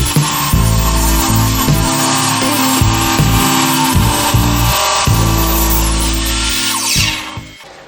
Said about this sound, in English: cut a 20-degree angle through this piece of wood